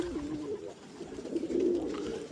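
A checkered pigeon visiting a backyard coos softly in low, throaty, repeated calls over a couple of seconds, fairly close with faint background noise.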